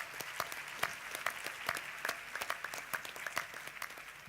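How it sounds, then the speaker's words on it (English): Modest audience applause at the Doha GOALS 2014 youth event, individual claps distinctly audible in an uneven patter from a smallish crowd, moderately near. "Let's give a round of applause, ladies and gentlemen."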